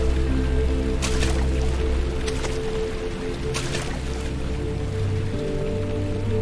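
Watery ambience in Amnesia: The Dark Descent: steady dripping and splashing over a low drone, with a few brief sharp splashes standing out, and no talking.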